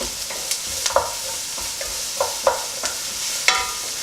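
Celery and spices being stirred around in a hot cooking pan for biryani, with a steady sizzle and a series of scraping stirs, close and clear with no talking.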